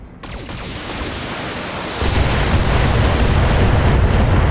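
A turret destroyed in the video game BattleTech, a loud sustained explosive roar that surges heavier midway and keeps rumbling, dense and close, with no speech.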